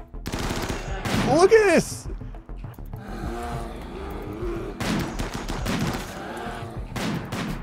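Rapid gunfire from trigger-happy shooting-specialist snipers in RimWorld comes in loud bursts between stretches of excited talk, with a voice speaking over and between the shots.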